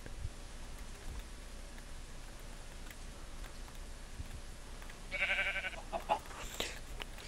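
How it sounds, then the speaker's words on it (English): Sheep in the video game Minecraft bleat a couple of times near the end, short wavering calls over faint rain-like background noise. "Shut up, sheep!"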